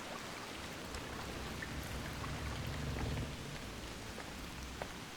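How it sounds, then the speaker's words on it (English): Steady rain patters densely on surfaces nearby, a continuous even hiss of countless drops with scattered louder taps and no voices. "Listen to this pitter-patter of rain right now."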